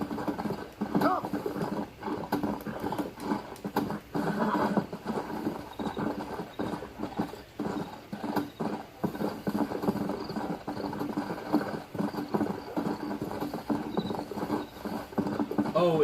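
A horse being ridden to a train station clip-clops in a continuous, uneven stream of hoofbeats, moderately close and steady throughout, over a busy, rustling outdoor background.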